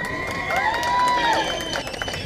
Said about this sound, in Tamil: ஒழுங்கா கைத்தட்டுங்க.